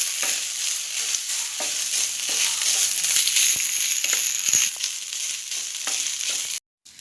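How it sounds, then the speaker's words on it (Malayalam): Grated coconut frying in a pan, stirred steadily with a spoon: a dense, continuous sizzle with soft scraping strokes throughout, close and fairly loud, briefly cutting out near the end. "ഇവിടെ തേങ്ങ ഇതിലേക്ക് ഇട്ട് കൊടുക്കാം. ഒന്ന് പച്ചമണം മാറുന്നവരെ ഇളക്കി കൊടുക്കാം."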